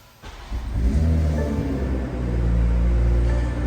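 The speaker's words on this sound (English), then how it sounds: "Hear how aggressive the exhaust is." A 2022 BMW M240i's exhaust in sport mode roars and revs close by, a deep, throaty, sustained rumbling growl that swells after a brief quiet start and holds steady.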